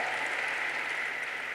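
Congregation at a women's church convention clapping to welcome a couple, a brief steady burst of even applause filling the room.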